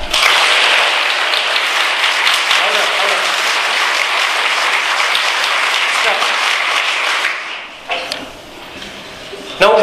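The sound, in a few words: students clapping hands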